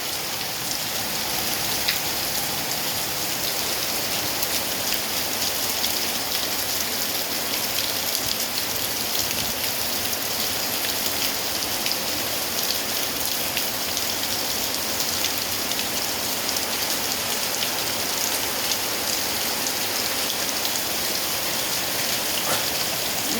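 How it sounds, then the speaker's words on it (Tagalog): Heavy rain pours down in Dubai, a loud, dense and constant hiss of water hitting surfaces that holds unbroken for over twenty seconds, with no voices. "ito ang malakas na ulan sa Dubai"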